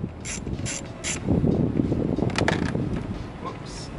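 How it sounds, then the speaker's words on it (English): A ratchet and socket loosen an interior bolt in a Honda Del Sol, a close run of quick clicking ratchet strokes in several bursts, with light handling noise and a voice speaking faintly. "Then you're going to want to break out your ratchet, put your socket in there,"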